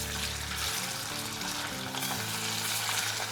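Boiled, chopped potatoes added to hot oil tempered with mustard seeds, curry leaves, green chilli, asafoetida and turmeric, a loud steady sizzle close up with faint low tones underneath and no talk.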